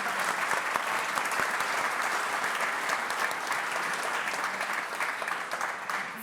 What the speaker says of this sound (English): come on, they deserve claps.